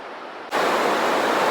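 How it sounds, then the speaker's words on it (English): Dave's Falls rushing in snowy Bigfoot country, a broad steady roar of falling water that cuts in abruptly and stays loud and close for the rest. "You can hear the falls, definitely."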